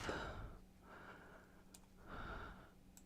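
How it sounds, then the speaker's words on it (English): Slow, heavy breaths pass close into a microphone in two long, airy swells with a pause between, faint overall, with a couple of small clicks and no talk. "I'm sorry if I'm like heavy breathing in your ear."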